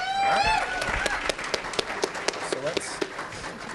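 Audience applause at the Hazel Park Promise Zone annual banquet, a crowd clapping steadily with sharp individual claps standing out, while voices and whistle-like tones ring over the start.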